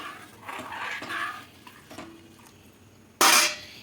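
A spoon scrapes and clinks against a pan while spice paste is mixed into a mustard hilsa curry: a few soft scraping strokes, then one sharp, bright metallic knock near the end.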